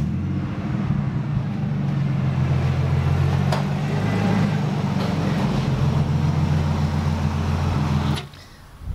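Idling engine of a stock-internal 1996 Nissan Skyline GTST fitted with a single Turbonetic 60:1 turbo and Tix Racing manifold, a steady loud low rumble held close for about eight seconds before cutting off abruptly.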